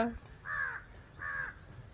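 A crow gives two harsh caws about a second apart, fairly close against quiet background noise.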